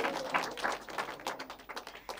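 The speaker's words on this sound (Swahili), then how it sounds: "Makofi kwake jamani Mtiribu" A church congregation at a Sunday Mass claps for the choir conductor, giving steady, moderately loud applause of many hands that rises and falls unevenly throughout.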